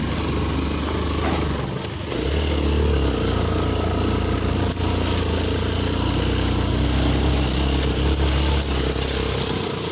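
Motorcycle climbing a steep uphill road, engine droning loudly and steadily under strain with a continuous low rumble, close by, briefly dipping before resuming at full throttle.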